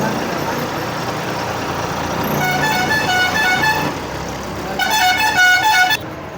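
Car and truck horns blaring in a congested market-road traffic jam: long, loud honks overlap in two stretches over a constant rumble of engines and street noise.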